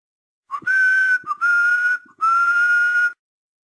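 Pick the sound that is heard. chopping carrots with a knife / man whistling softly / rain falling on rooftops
man whistling softly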